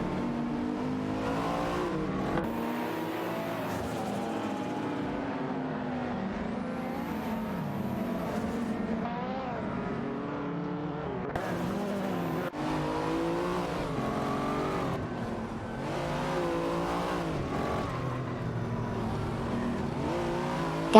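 Racing cars in a simulated AI race roar continuously, engines climbing and dropping in pitch as they accelerate and shift, several cars overlapping at steady loudness.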